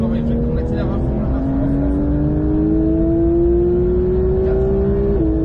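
A Porsche 911 992 GT3 accelerates at full throttle on the Mettet track, its engine note climbing steadily in pitch as a loud, continuous drone, heard from inside with a voice speaking over it.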